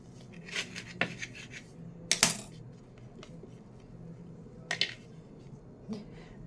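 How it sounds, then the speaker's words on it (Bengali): A knife cuts through a freshly baked fruit cake, making scattered light scrapes and sharp clinks against a plate or tin, fairly close and quiet between strokes. "এবার ছুরি দিয়ে কেটেও খানিকটা দেখিয়ে দিচ্ছি"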